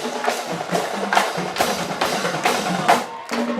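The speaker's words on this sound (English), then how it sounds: "And I can hear the drums" Marching band drums play at a high school football game, a rhythmic run of repeated drum hits in a fairly loud steady pattern with crowd noise in the background.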